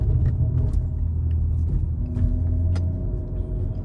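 A 500hp BMW rolls along a bumpy road at night, its steady low engine rumble and road noise filling the cabin with uneven thumps and jolts from the rough surface.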